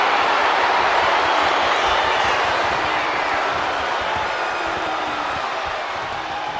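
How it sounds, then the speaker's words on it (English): A wrestling arena crowd roars steadily in the video game WWE 2K25, a dense, loud wash of cheering that holds throughout and fades slightly toward the end. "Randy Orton feeding up this electric crowd."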